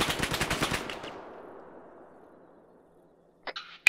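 Burst of rapid gunfire in the military shooter Arma 3, a quick run of loud close shots that trails off into a fading echo, then a brief faint crackle near the end.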